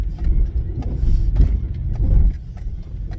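A Honda Fit driving through water on a flooded road, with a close, loud engine rumble, splashing and churning bursts that swell and ease over a few seconds, and no talk.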